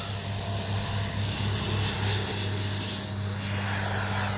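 A Freewing 80mm Avanti S V2 RC jet at takeoff, its steady high-pitched ducted-fan whine running throughout and dipping briefly near the end, with no talk.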